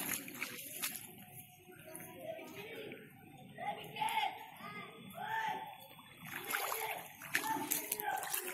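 Water sloshes and splashes in a flooded classroom, a steady wet churning under almost continuous talk, with children's voices mixed in nearby.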